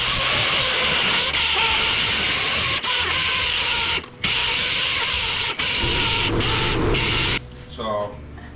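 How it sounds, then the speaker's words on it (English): A DA sander with 80 grit paper grinds along the edges of an old, beat-up aluminum panel for a gas pump cabinet, running as a loud, continuous rough whir with a few brief stops and a voice near the end. "So now I'm just gonna take some 80 grit on a DA or clean up all the edges."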